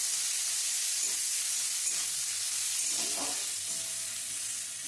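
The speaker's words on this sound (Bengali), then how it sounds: "এর মধ্যে আমি শুকনো লঙ্কা, তেজপাতা ফোড়ন দিয়ে দিয়েছি আর একটা পেঁয়াজ আমি কুচিয়ে দিয়ে দিয়েছি" Chopped onion, dried red chilli and bay leaf frying in hot oil in a pan, a steady close sizzle and hiss with a few soft stirring scrapes, no talk.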